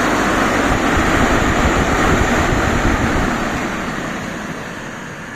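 A small 220V drying fan runs at speed with a loud, steady rushing airflow close to the microphone, easing slightly in level toward the end.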